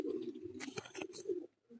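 A rooftop pigeon gives a sustained low coo, broken by brief fluttering or shuffling noises, then ends with a short final coo, close and clear with no talk.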